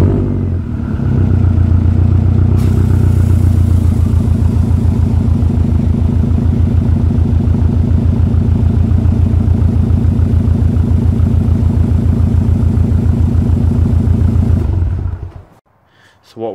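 A 2008-or-later Subaru Impreza/WRX engine runs steadily for about fourteen seconds after an oil change, a loud close idle with an even low thrum, then shuts off abruptly.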